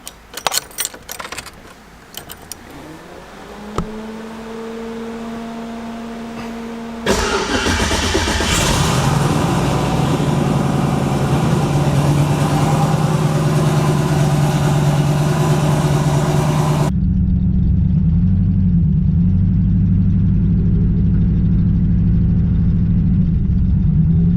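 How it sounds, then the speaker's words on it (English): A turbocharged LS-swapped Mustang with a loud exhaust comes after keys jangle and the starter whirs. The engine catches with a loud roar and settles into a rough, rumbling idle, heard close and without talk. "we're still using this wire to start the car"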